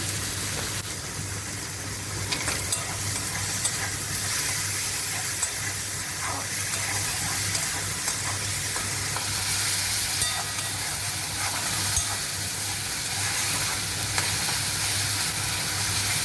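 Garam masala fries for Bengali chana dal, just after a little sugar is added, giving a steady, close, continuous sizzle and hiss with a faint low hum underneath and no talking.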